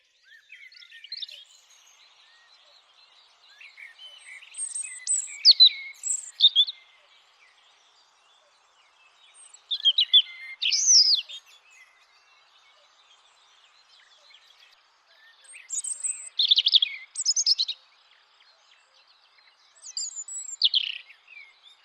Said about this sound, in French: grive musicienne se réchauffe au soleil